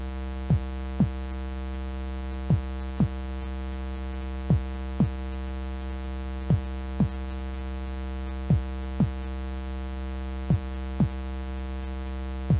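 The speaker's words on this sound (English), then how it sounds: "First, he needs a heartbeat with perfect rhythm." A rhythmic heartbeat in a musical piece thumps in paired lub-dub beats at a steady, slow tempo over a constant low droning hum, with no voices.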